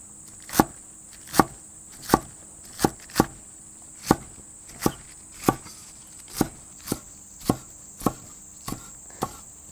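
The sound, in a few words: chopping garlic chives with a knife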